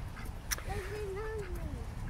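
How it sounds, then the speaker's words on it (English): A duck or goose on a small farm pond at an open-air history museum near Cardiff gives a short, wavering nasal call, fairly faint over steady outdoor background noise. "With some ducks. Or are they geese?"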